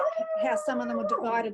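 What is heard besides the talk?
dog howling in the background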